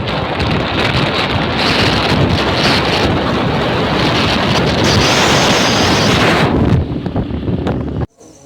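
Strong, roaring wind buffets the microphone while a motorbike races along at high speed, a continuous loud rush that cuts off abruptly near the end.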